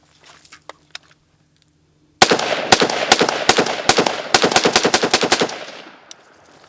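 Robinson Armament XCR rifle firing a rapid string of loud, sharp shots after a sand test, about a dozen reports in quick irregular succession after a short quiet lead-in, with a ringing tail at the end.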